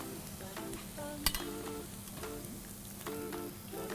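Cheeseburger patties sizzle in a big, heavy frying pan, a steady close frying hiss with occasional clinks and scrapes of a utensil and a brief sharp knock partway through.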